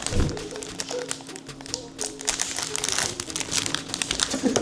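Close, continuous crinkling and crackling of plastic bread packaging being torn open by hand and handled, with a few soft taps throughout.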